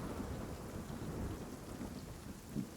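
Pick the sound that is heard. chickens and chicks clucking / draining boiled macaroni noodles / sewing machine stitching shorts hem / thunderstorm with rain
thunderstorm with rain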